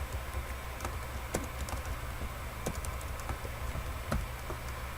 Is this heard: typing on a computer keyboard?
yes